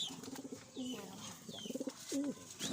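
Young white pigeon squabs coo in short, wavering calls, several bursts close by over about three seconds, with a few faint higher chirps in the background.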